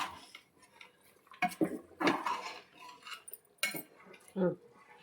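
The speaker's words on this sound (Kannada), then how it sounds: "ಇವಾಗ ಗೂರಾಡೋಣ." A spoon scrapes and knocks against a metal pot while biryani with lemon juice is stirred, giving a few irregular clinks and scrapes, close and fairly quiet in a still kitchen.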